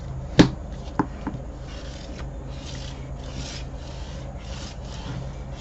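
Paper craft pieces are burnished by hand, starting with a sharp tap and a couple of knocks, then soft continuous rubbing and rasping strokes close by.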